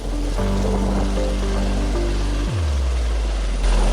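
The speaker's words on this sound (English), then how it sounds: "The second AW-159 Wildcat helicopter arrived in the Philippines in June 2019" An AW-159 Wildcat helicopter's rotor and engine roar loudly and continuously, the pitch shifting downward midway as it moves overhead.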